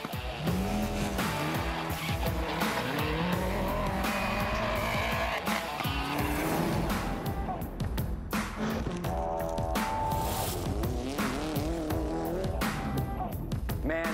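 Toyota RAV4 Rally car tearing along off-road, engine revving and shifting continuously with squealing, skidding tires and gravel noise, loud and close throughout.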